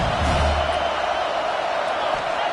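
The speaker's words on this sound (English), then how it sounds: "this crowd really affecting the football game" A home crowd at a football game roars steadily, a loud, dense wash of cheering and noise from a packed stadium that holds without a break.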